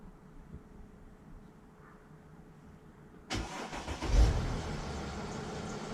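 A Mercedes ML W164 that is hard to start: after a quiet stretch the engine abruptly cranks and catches, roaring up loud with a brief rev before settling into a steady run.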